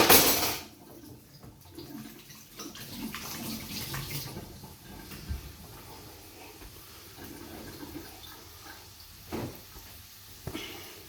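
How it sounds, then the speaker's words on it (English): A kitchen tap runs while hands are washed at the sink during burger cooking, producing a steady water splash that starts with a loud burst and then settles into a softer, continuous flow with occasional louder splashes. "Just wash my hands quickly."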